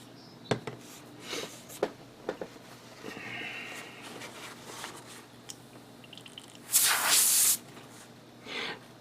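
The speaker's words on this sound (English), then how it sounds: "This airbrush is good." An airbrush sprays paint onto an MGSD Freedom Gundam model kit, giving a short, bright burst of airy hiss close by, amid scattered faint clicks and handling taps.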